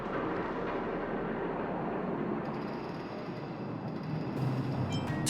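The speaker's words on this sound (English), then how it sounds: "That noise! Do fragmentum monsters usually sound like this?" A fragmentum monster in the video game Honkai: Star Rail gives off a dense, rumbling roar like white noise. It fills the whole clip at a steady level, with a brighter hiss rising near the end.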